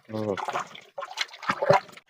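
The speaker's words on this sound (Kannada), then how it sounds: "ಎರಡು ಭಾಗ ಸಗಣಿ ಐತಿ ಅಂದ್ರೆ ಮೂರು ಭಾಗ ಈಗ ನಾವು ನೀರನ್ನ ಹಾಕ್ಬೇಕಾಗ್ತದೆ" Water tipped onto cow dung for a gobar gas plant, a few short splashing gushes between and under a man's spoken explanation, close and moderately loud.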